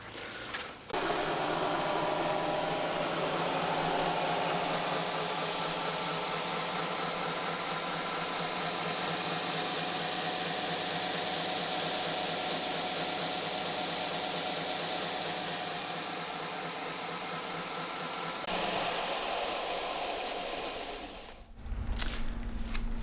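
A metal lathe runs steadily while turning bolts in a woodworking shop, a continuous loud mechanical drone with a constant whirring hum that holds for about eighteen seconds before stopping abruptly, followed by a few brief clunks.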